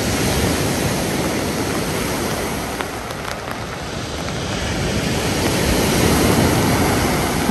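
Sea surf washes onto the beach at Lazarevskoye near Sochi in the evening, a continuous broad, loud rushing wash that swells slightly toward the end, with no voices.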